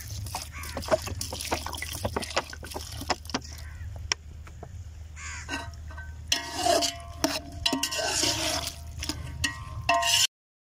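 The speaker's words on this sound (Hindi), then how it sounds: "तो अब इसमें तकरीबन आधा लीटर पानी शामिल करेंगे" Water splashes and trickles as about half a litre is poured into a pot of matar pulao (peas and rice) cooking outdoors, a bubbling, gurgling pour that swells in the second half amid clinks and kitchen noise.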